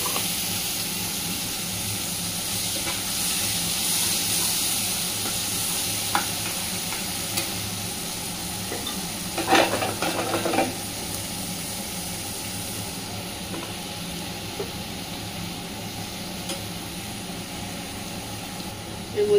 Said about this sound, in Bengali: এবার এই তেলের মধ্যে দিয়ে দিচ্ছি কালো জিরা ফোড়ন।